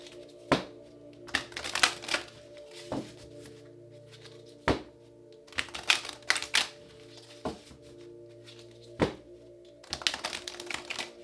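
Oracle cards, including a Healing Bones Oracle deck, being shuffled by hand: a run of crisp riffling snaps and soft slaps, close and fairly quiet, in irregular bursts across the whole stretch with no talking.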